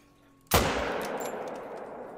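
A single loud rifle shot fired at a mule deer in a hunting video game, a sharp close crack with a long rolling echo that decays over two seconds.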